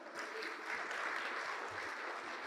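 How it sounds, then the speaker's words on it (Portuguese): A church congregation applauds during a sermon, a soft, even wash of many hands clapping at some distance, steady throughout the short stretch with no talk over it. "Vamos aplaudir ao Senhor por isso."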